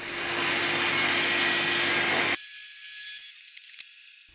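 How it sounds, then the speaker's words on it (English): A table saw rips through old hardwood shelving with a loud, steady whine. After about two seconds it cuts off abruptly, leaving a faint hum and a few small knocks. "I ran everything through the table saw and cut them just a fraction larger than the finished dimensions"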